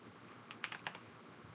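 A few quick keystrokes on a computer keyboard while code is typed, a short cluster of light clicks in a quiet room with no talking.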